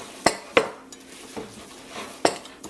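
A spoon or whisk clinks against a bowl while almond and coconut flour muffin batter is worked together, giving a few sharp scraping knocks at irregular intervals over quiet background.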